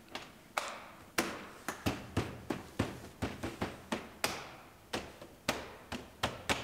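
A door panel on a 2015 Chevrolet Silverado Duramax LTZ pickup is snapped into place: a series of sharp, close plastic clicks and taps at uneven intervals, some quick pairs, with no talking.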